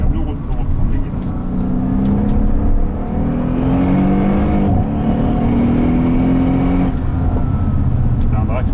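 A Mercedes-AMG GT R accelerates hard on a race circuit, engine note rising through the gears in loud, sweeping pulls with gear changes between them, as people speak over the roar.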